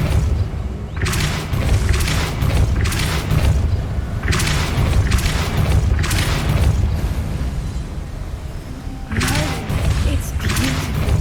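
Depulso spell impacts in Hogwarts Legacy, arriving as repeated heavy booming thuds in bursts over a dense, loud game soundscape of rumbling music and effects.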